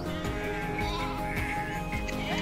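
A large flock of sheep watered at a pond under hot sun bleats continuously, overlapping calls rising and falling close by against steady outdoor background noise.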